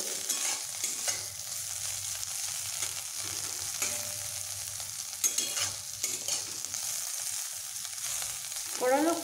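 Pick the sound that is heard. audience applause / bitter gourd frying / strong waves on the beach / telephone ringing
bitter gourd frying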